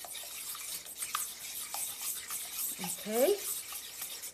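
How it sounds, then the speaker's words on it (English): Small whisk stirring a mixture for blueberry scones, faint light ticking and swishing strokes against a bowl, quiet and close, with a brief spoken word near the end. "So I am just going to stir that up now."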